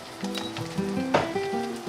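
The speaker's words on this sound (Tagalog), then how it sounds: "So, prito na natin yung sibuyas natin." Onions sizzle and crackle in hot oil in a pan, a steady close frying hiss with small pops throughout.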